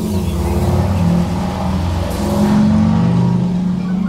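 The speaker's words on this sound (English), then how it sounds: "Don't mind the obnoxiously loud motorbike." An obnoxiously loud motorbike passes outside, a deep, rumbling engine drone that holds steady and swells slightly toward the end, heard alone without talk.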